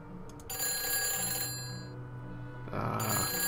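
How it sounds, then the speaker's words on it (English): A telephone rings in the Nancy Drew: Phantom of Venice video game, with bright electronic ring bursts that start, pause briefly and start again, clear and close with no talking over them. "Phone's ringing again?"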